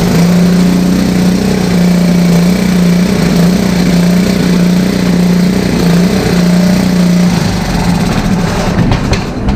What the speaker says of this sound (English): I'm going to say it's going to fire up in 2 pulls